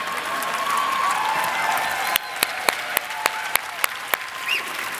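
Sparse, scattered claps from an audience at a talk on optimism and pessimism ring out over a low room murmur, a dozen or so separate sharp hand claps spaced irregularly through the second half.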